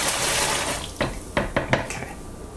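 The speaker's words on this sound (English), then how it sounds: "Pour that in there." Liquid pours into a Coopers micro brew kit container, a steady watery rush followed by several sharp clinks and splashes from the vessel.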